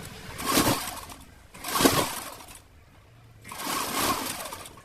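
Sewing machine stitching a lungi, running in three steady whirring bursts of about a second each with short pauses between, close and alone.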